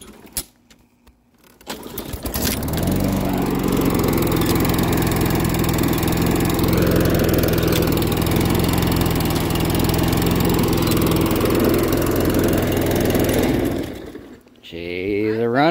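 A lawn mower engine starts up and runs steadily and loudly for about twelve seconds at close range, with a constant drone that swells slightly midway before cutting off near the end.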